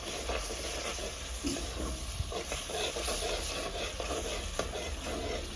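Chopped tomatoes and green chillies frying in masala in a pan, giving a steady close sizzle and hiss with occasional stirring scrapes, continuous and moderately quiet, with no voice.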